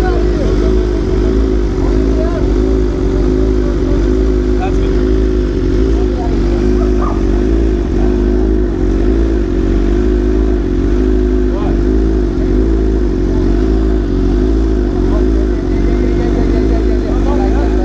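BMW M1000RR motorcycle running on E85 fuel: a loud, close engine running steadily with a rough, pulsing rumble that fills the whole stretch, with no speech over it.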